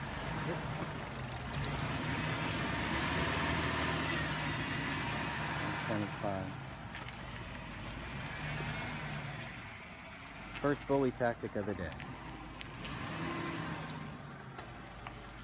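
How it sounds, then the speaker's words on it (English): A large employee truck parked at Bohemian Grove gives a steady low engine rumble beneath people talking nearby. "For some reason they have a massive truck here."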